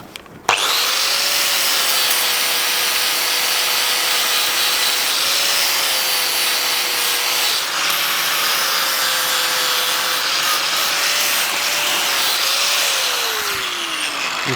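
An angle grinder cuts metal, a loud, steady high whine with a constant motor tone that holds for about fourteen seconds and drops briefly once midway.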